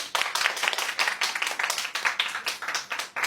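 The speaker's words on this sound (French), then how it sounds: "ses filles, est-ce que vous pouvez applaudir pour votre maman?" A small group of girls in Togo claps together, with distinct sharp hand claps in a quick, slightly uneven rhythm, close by and fairly loud throughout.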